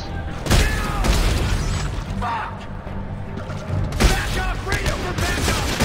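Gunfire and explosions in the sci-fi shooter Dead Space 3 during co-op combat: heavy booms and bursts of shots over a dense mechanical din, loud and close, with voices shouting through the action.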